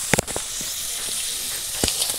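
Homemade potato chips deep-frying in a pan of oil in a village kitchen give a steady, close sizzling hiss with a few sharp crackles and pops near the start and end.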